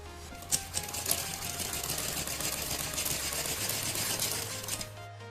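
A sewing machine runs steadily, stitching around the folded neck edge of a kurti, its motor hum continuous and close with a rapid needle chatter on top, the pitch shifting slightly partway through.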